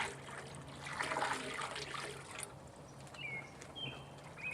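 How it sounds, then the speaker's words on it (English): Hot water poured from a pot into a laundry tub, a soft splashing trickle that swells for a couple of seconds and then tapers into lighter dribbles and drips, fairly faint and close. "all I'm going to be doing is adding in a pot of hot water"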